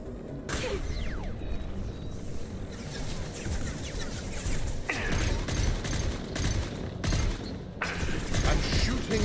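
Sharp bursts of gunfire from Mass Effect 2: Legendary Edition ring out across a dense, busy game soundscape, with several loud volleys standing out over continuous mechanical noise.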